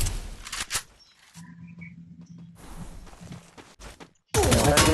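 Gunfire in a multiplayer shooter video game comes as rapid machine-gun bursts early on, then sparser shots over a quiet background, with a loud voice breaking in at the end.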